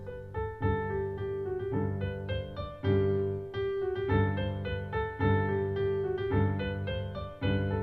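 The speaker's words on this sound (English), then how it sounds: "Sounds very similar to the bagpipe." Reedy, droning music with a constant low drone beneath a bright, nasal melody, played steadily and fairly loud, much like bagpipes.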